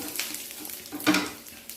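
Chopped garlic sizzles in a hot pan with oil, a soft steady frying hiss broken by a couple of scraping stirs of a spatula against the pan.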